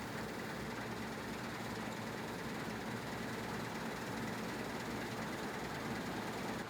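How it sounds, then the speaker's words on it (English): A combine harvester collects grain while straw drops out the back and chaff blows from the side, giving a continuous, even mechanical rumble and hiss with no speech. "it's collecting the grain, the straw is coming out the back, and it's blowing the chaff out of the side"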